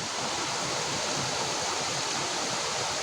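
Dense, steady rush of water pouring through a canal near the seasonal Choriyankunnu waterfall, a loud broadband roar that holds constant and close throughout.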